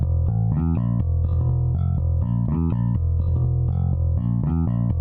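Guitar and bass play interlocking arpeggios in an arrangement, a steady stream of clean plucked notes over a deep, sustained low end, close and even in volume with no talking.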